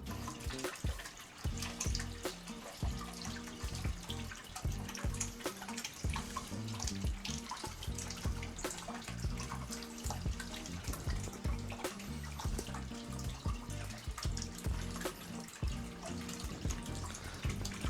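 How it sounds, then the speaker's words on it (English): Water pouring steadily into a 4ft aquarium tank with sand on the bottom, a loud continuous splashing and gurgling stream that runs unbroken from start to finish. "I wanna add some water to the tank so that it's a bit easier to plant into the sand."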